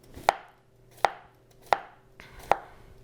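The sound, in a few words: knife thinly slicing cucumber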